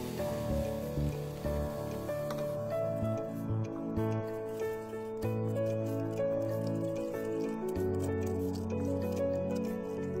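Malabar spinach stems and fruits are dipped and swished in a vessel of water, giving soft close drips, splashes and squishy sloshing throughout, with a faint tonal hum behind and no voices.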